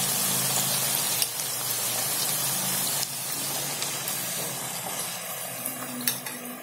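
Bread-stuffed somas, a sweet wheat snack, fry in hot oil with a steady, moderately loud hiss and scattered small crackles and pops.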